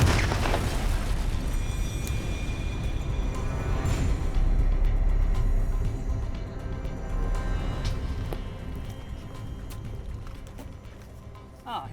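A tank firing a squash head shell at an armour plate, a loud deep boom that rolls and rumbles for several seconds before slowly fading, with distant voices in the background.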